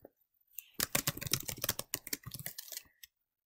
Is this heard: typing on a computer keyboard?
yes